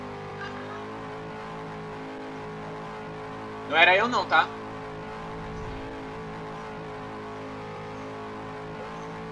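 Race cars in the Cars 3 video game hum with a steady engine drone, broken midway by a short burst of squealing tires and revving, while a voice talks over the play.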